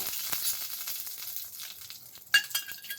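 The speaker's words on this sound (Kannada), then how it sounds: "ಧನಿಯಾ, ಗೋಡಂಬಿ, ಒಂದು 12 ಕಾಳು ಮೆಣಸು ಹಾಕ್ಕೊಂಡಿದ್ದೀನಿ. ಇಷ್ಟನ್ನು ಫ್ರೈ ಮಾಡ್ತೀನಿ" Coriander seeds, cashews and peppercorns fry in a little oil for an egg gravy, giving a steady, close, moderately quiet sizzle with a brief scrape of stirring near the end.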